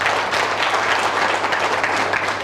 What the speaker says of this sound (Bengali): একটা সুন্দর করতালি হওয়া উচিত।